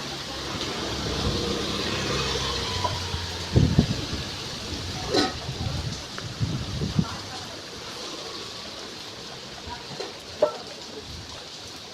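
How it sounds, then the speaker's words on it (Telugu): Heavy rain pours steadily through a Sunday, a dense, even hiss that fills the whole stretch, with a few louder knocks and splashes standing out now and then. "చూడండి వర్షం ఫుల్ పడుతుంది"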